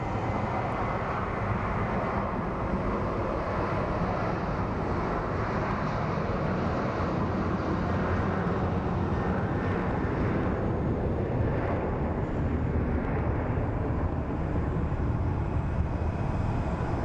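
A Southwest airliner takes off from Phoenix Sky Harbor, its jet engines giving a steady, powerful roar that fills the air for the whole stretch, heard from a fair distance with no voices.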